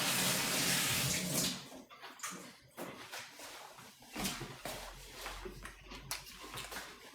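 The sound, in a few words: rinsing hands under running tap water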